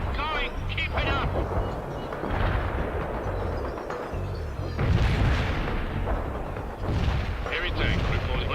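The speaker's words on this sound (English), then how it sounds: "Artillery shells delivered on the mark." Artillery shells bursting in World in Conflict, a war-in-Europe strategy game: a continuous rumble of heavy booms and blasts rolling through the whole stretch, loud and close, with bigger impacts surging near the middle and end.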